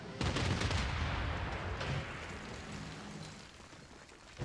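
Rapid gunfire and explosive bursts from units shooting in the strategy video game Civilization 6, a dense, steady volley of cracks and rumbles that fades slightly toward the end.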